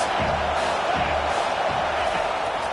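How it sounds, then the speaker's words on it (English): A dense stadium football crowd roars loudly and continuously on a third-down play, a broad wall of cheering with rhythmic surges, a game announcer's voice faintly underneath. "this crowd is tearing the lid off this place"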